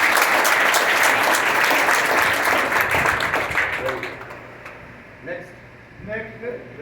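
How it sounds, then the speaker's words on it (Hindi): An audience at a school award ceremony for Class X and XII students applauds loudly, and the clapping tapers off; then a voice starts speaking over the fading claps. "के लिए जोरदार ताली बजाइए।"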